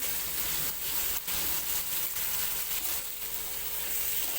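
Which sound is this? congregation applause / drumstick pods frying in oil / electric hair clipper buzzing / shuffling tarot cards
drumstick pods frying in oil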